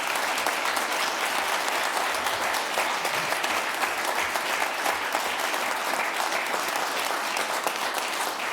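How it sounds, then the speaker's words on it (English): Sustained applause from an audience at a city council meeting, honoring public safety telecommunicators; dense, steady clapping throughout with no speech. "let's give our telecommunicators a round of applause"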